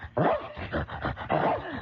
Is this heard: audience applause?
no